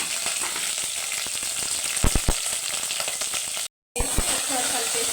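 Green chillies fry in hot oil with cumin, whole spices and onion, giving a steady close sizzle with a few sharp stirring knocks against the pan and a brief break before the crackle resumes.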